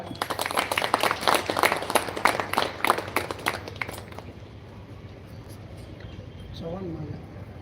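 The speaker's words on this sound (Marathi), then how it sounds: "तर अशा सेवेकऱ्यांच्यासाठी तर जोरदार टाळ्या" An audience at a devotional gathering claps loudly and continuously for the first few seconds, then the applause fades out, leaving low room murmur.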